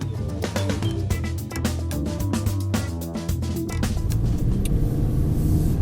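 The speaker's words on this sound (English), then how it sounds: "Next thing to do is to take it for a drive." A Lexus UX 250h F Sport drives along with a steady low engine and road rumble, heard close and continuous with no talk.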